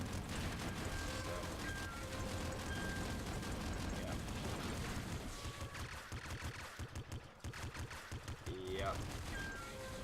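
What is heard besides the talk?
gunfire in the video game Nuclear Throne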